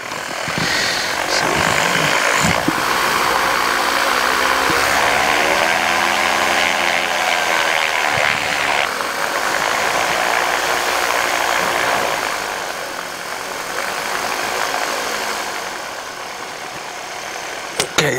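A Dragonfly aircraft's engine runs steadily before takeoff, a loud, continuous droning rumble with a rising and falling whine partway through, ending with a couple of sharp clicks.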